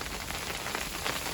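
Hail falling on an umbrella outdoors beside a small campfire, a dense, constant hard patter of icy pellets drumming close overhead without pause.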